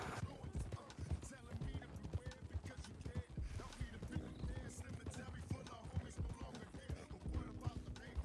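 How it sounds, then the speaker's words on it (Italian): Wild horses galloping in a western video game, rapid overlapping hoofbeats thudding steadily under a voice with faint game sounds behind. "Quanti cavalli selvatici ci sono?"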